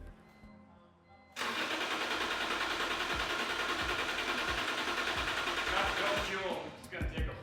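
BMW E36 with a swapped S54 engine being cranked after years of sitting: a sudden loud, sustained whirring crank that runs about five seconds and then cuts off, followed by a few brief clunks.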